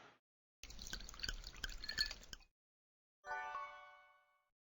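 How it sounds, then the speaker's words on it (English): Wine glugs from a bottle into wine glasses in the Escape Games video game, heard as two separate bursts of trickling liquid set against silence. "And we pour them into wine glasses."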